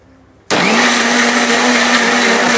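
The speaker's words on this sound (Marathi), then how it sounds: "बघा हे वाटप मी मिक्सरला फिरवून घेते" Electric mixer grinder whirring steadily as it blends a roasted spice paste for Malwani horse gram curry, starting abruptly after a quiet moment and running loud and continuous to the end.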